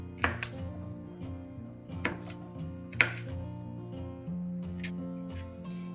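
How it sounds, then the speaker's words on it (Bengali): A knife chops capsicum into small pieces on a cutting board for chilli paneer, a few sharp taps landing at irregular intervals over a steady background hum. "ক্যাপসিকামগুলো একটু ছোট ছোট করেই কাটি"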